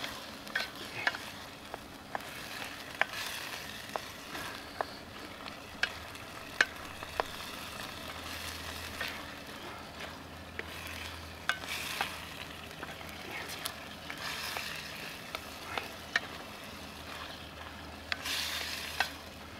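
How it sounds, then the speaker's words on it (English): A stir fry sizzles steadily in a hot pan on a Bush Box XL stove outdoors, with a constant frying hiss broken by frequent sharp clicks and scrapes as the food is stirred, close and fairly quiet. "Pan's nice and hot. Nice steamy stir fry."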